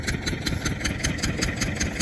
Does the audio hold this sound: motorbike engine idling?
yes